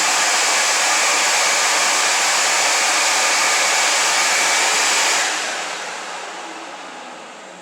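Motors of a Diamond Jet 1200 dust containment system run with a loud, steady broadband whoosh of airflow, which drops and softens after about five seconds as the load changes.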